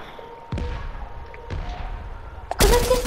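Gunfire in the video game Fortnite: three sharp shots spaced about a second apart, the last a louder, denser burst that rings on to the end.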